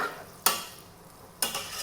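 Onion and chicken frying in a pot while cooking rice biryani, two sharp scraping stirs against the pot over a faint steady sizzle.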